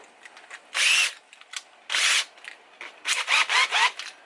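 Reaming tool grinding into a stripped bolt on an electric skateboard, heard as several harsh, loud, close bursts of about a second each, separated by short pauses and lighter scraping.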